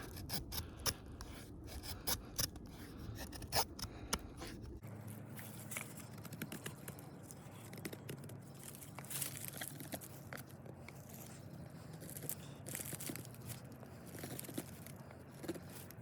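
A Mora Garberg Carbon knife with a Scandi grind carves a notch into wood: close, quiet scraping and shaving strokes, crisp at first and then a steady rasping texture.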